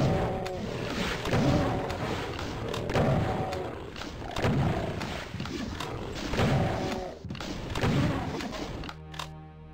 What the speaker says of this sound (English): That was a bad rocket.